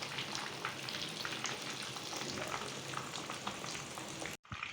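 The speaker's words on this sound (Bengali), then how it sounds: "এভাবে আমি বাদামি কালার হওয়া পর্যন্ত আমি খুবই সামান্য হালকা আগুনে আমি ভাজতে থাকবো।" Chicken pieces fry in oil over very low heat, a dense, even crackling sizzle that runs without a break before cutting off abruptly near the end.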